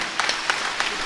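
An audience at a Telugu spiritual discourse by Ganapati Sachchidananda gives a short burst of applause, a brief scattered flurry of claps heard up close.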